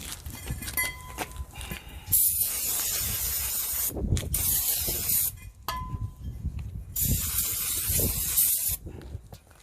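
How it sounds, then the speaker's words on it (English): Several loud hissing bursts of aerosol brake cleaner sprayed onto a new front brake rotor of a 2010 BMW 328i, each lasting a second or two with short pauses between, close up. "I like to start by spraying it down with a little bit of"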